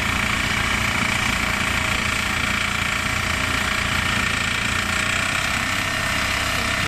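A green toy tractor engine in a cartoon, a loud, steady mechanical drone and rattle running unbroken throughout, close and constant.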